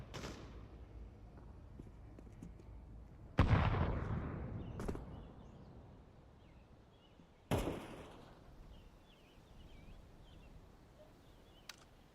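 Two sharp flashbang grenade detonations in Counter-Strike 2, each a sudden loud bang trailing into a fading ring, spaced several seconds apart amid quiet game ambience.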